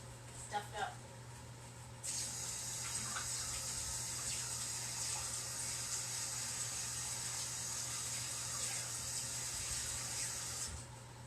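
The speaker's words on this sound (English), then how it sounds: "let me go run this in the sink in the water so it doesn't get all stuffed up" A tap runs into a sink to rinse a stencil, a steady close hiss of flowing water lasting about nine seconds over a low background hum before shutting off.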